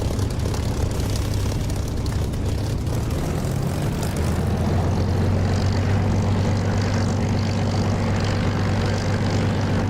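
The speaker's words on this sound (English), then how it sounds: "I'm going to taxi to runway" Steady drone of a military aircraft engine and propeller as the plane taxis toward the runway in the DCS flight simulator, loud and continuous with a deepening low hum partway through.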